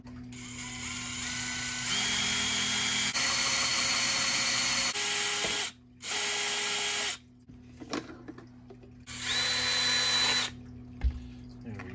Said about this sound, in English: we're gonna go and drill